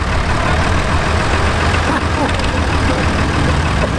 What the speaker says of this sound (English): Oh, it's an old tractor!